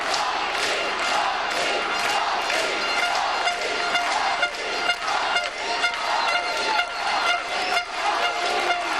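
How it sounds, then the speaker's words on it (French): A large stadium crowd at a 5000 m athletics race in Nouméa cheers and roars loudly and continuously, swelling in waves as a runner passes. "Nordine Benfoda sous les acclamations du public"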